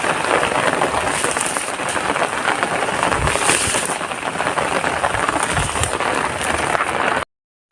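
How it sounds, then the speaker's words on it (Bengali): Heavy rain pours steadily and loudly, a dense, continuous hiss close by, with a faint rumble of thunder in the background and no talk, before the sound cuts off abruptly near the end. "কত জোরে বৃষ্টি পড়ছে।"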